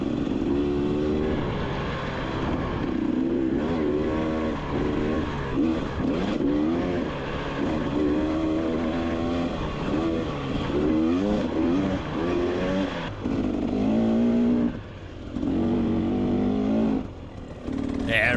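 Motorcycle engine revving and lugging along an overgrown forest trail with chunky rocks, loud and close, throttle rising and dropping in repeated bursts with brief lulls, under a rider's occasional talk.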